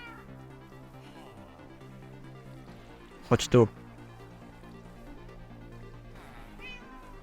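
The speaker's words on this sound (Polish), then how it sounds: "I mamy drugiego kotka już tutaj" A cat meows in a village-building video game, one brief, sharp double call rising out of quiet background music, while someone talks nearby.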